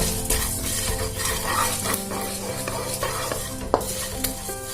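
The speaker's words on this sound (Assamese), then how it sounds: "এইদৰে অকমান শুকান কেৰাহীটোতে গৰম কৰি ল'ম।" Whole coriander, cumin and three dried red chillies are dry-roasted in a hot kadai, giving steady close scraping and stirring with light clinks of the utensil against the pan.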